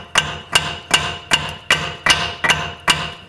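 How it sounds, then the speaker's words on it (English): Eight sharp, evenly spaced metallic hammer blows drive a socket over a tie rod end while replacing a front wheel bearing on a 2012-2017 Toyota Camry, close and loud with no talk. "Going to hammer in this end over here."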